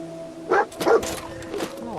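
Dogmeat, the dog companion in Fallout 4 VR, lets out two quick, close barks followed by a softer yip, with a faint musical tone underneath.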